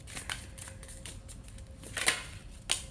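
Tarot cards are shuffled by hand, giving a quiet run of light, crisp paper flicks and taps with a couple of sharper snaps near the end, close by and with no talking.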